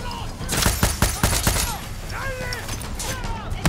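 Gunfire in the video game Far Cry 6: rapid bursts of shots, close and loud, repeating through the moment, with a voice talking over the shooting.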